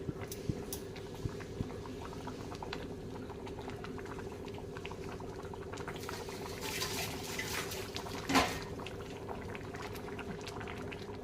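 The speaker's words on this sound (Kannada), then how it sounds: "ನೋಡಿ ಈಗ ಕುದಿ ಬರ್ತಾ ಇದೆ" Bisi bele bath bubbling in a pot on the stove, a soft steady simmer with faint pops and patter, quiet and close, with one brief louder clink near the end.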